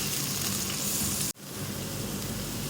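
Sliced onions frying in oil in a pan, a steady close sizzle and crackle with a brief gap where the sound cuts out before the sizzling resumes.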